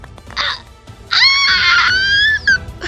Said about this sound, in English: Hearing Lon scream, I wanted to cover my ears.